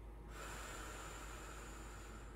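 A single long, close exhale through the mouth during Schroth breathing for scoliosis comes as a steady airy rush after a brief quiet start. It is sustained and even until the end.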